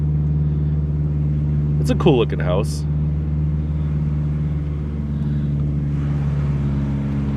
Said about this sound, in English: Listen to how loud my car is as we crest this hill.